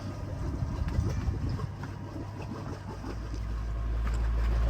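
A sailboat motoring under its engine in light wind off the Greek island of Kos, a steady low drone with water wash, growing louder toward the end.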